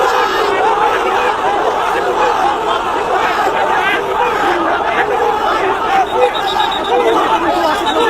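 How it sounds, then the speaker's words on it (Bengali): Large crowd chanting "bhuya bhuya" slogans, a dense continuous roar of many voices shouting together, loud and close throughout with no pause. "ভুয়া ভুয়া স্লোগান দেয়।"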